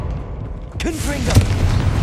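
An explosion spell cast in Hogwarts Legacy during a fight against inferi: a sudden broad burst lands about a second in and then rolls on in a rumbling tail, with a voice sounding over it.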